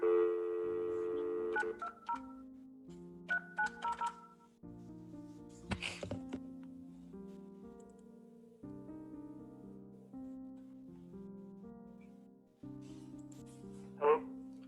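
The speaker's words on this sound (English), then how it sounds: "Charles Blanton, who did contact my office with a phone number, so I'll call him next" Telephone keypad tones and ringback on a call placed during a remote court hearing, a series of tonal beeps and rings with short clicks, moderately loud with no speech.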